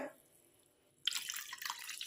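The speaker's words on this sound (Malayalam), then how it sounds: "ഇനി നമ്മൾ ഈ വെള്ളം അങ്ങോട്ട് ഒഴിച്ചു കൊടുക്കുകയാണ്" Quiet trickle at first, then a sudden, steady splash of water poured into a jar of raw mangoes for the last second.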